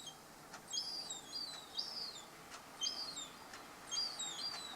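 A young seagull on a garage roof gives thin, high, squealing calls in about five short bursts, fairly faint against quiet outdoor surroundings.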